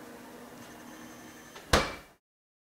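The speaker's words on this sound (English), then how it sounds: "I will take my Kong, open my freezer." A home freezer door opens with a sharp thud and seal release over a steady hum, fairly close and loud, then the sound cuts to silence.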